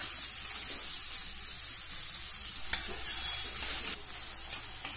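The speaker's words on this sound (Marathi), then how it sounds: "आता मध्यम गैस वर हा दुधी आपल्याला थोड़ा मऊ होईपर्यंत परतवून घ्यायचा आहे" Bottle gourd being stirred and sautéed in a pan over medium heat, with a steady close sizzle throughout and a few sharp scraping clicks of the spatula.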